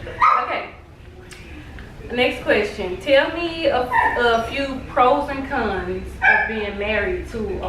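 A dog barks and yips in the background of a couple's home interview while people keep talking loudly over it.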